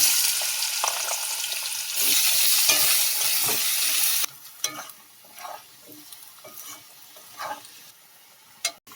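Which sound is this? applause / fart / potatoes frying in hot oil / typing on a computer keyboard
potatoes frying in hot oil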